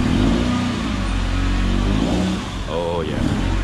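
A 1989 Honda Civic EF with a 1.6i DOHC engine idles loudly and steadily up close, then gives a brief rev before settling back.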